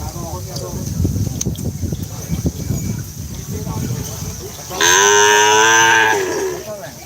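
Several people talk amid outdoor crowd noise before a single loud, close moo from a small cow breaks through near the end at a cattle-racing ground in Pamekasan.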